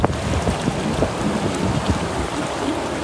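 Strong wind roars in a steady broadband rush at an outdoor spot by water while a net is cast for fish, gusting loudly and continuously with low buffeting against the microphone.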